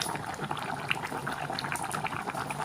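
Pork bone and bitter melon soup boiling in a pot, a dense continuous bubbling and popping of simmering liquid, close and steady with no voices.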